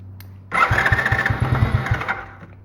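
A small free quad's engine catches and runs with its rear end jacked up, a close, loud buzzing putter with rapid pulsing firing beats and a brief throttle rev before it settles back after about two seconds.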